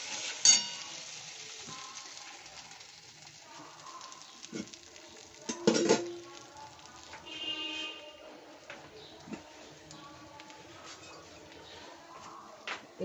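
Spice masala for doi potol frying and being stirred in a pan, a steady low sizzle with scattered scrapes and clinks of the spoon, one sharper knock near the middle.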